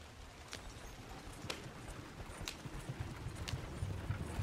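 Horse hooves clip-clop in a steady rhythm as a horse is ridden in Red Dead Redemption 2, fairly faint and regular with a soft scuffling bed underneath.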